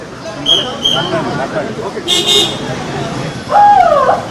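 Car horns honk in busy street traffic, a short toot near the start, another around the middle and a longer honk at the end, over a steady roadway rumble and background crowd chatter.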